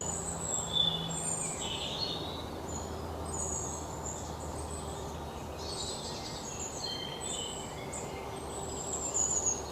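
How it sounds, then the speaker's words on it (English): Quiet jungle ambience with scattered high bird calls and chirps over a soft, constant insect hum; no voices. "is just bird sounds or just wilderness sound"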